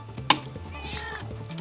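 A cat meows in Minecraft: one short, clear, quiet meow with a soft tonal tail over low background hum, no talking.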